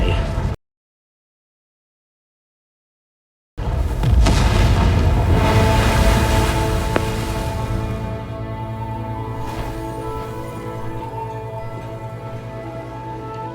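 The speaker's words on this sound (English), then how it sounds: "Did you see how big that explosion was?" A huge in-game explosion from a Genshin-style action game erupts after a brief silence, a loud sustained boom with a long rumbling tail that slowly fades.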